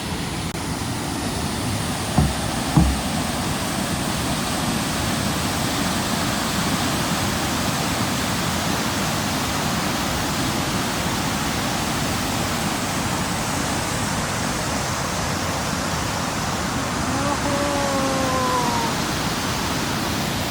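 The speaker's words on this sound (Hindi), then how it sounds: "यहाँ पानी की आवाज़ ज़्यादा आने लग रही है, शायद हम नदी के पास जाने वाले" A river rushes steadily nearby on a jungle trek to a living root bridge, a loud, unbroken roar of water lasting throughout, with a brief faint knock early on.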